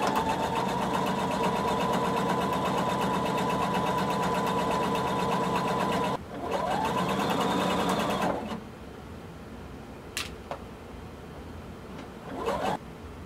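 Sewing machine stitching a band onto a blazer facing with a 3/8-inch seam allowance, a steady close whirring run for about eight seconds, then stopping, with a couple of brief clicks and rustles afterward.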